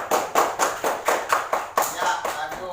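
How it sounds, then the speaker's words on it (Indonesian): A classroom of pupils claps together in a steady rhythm, about a dozen bright bursts of applause at close range, with no talking over them. "tepuk tangan dulu."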